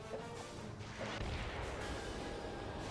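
Big bombs launch and burst in the Batman Vengeance video game, a dense, continuous rumble of crashing explosions that swells louder about a second in and keeps pounding without a pause.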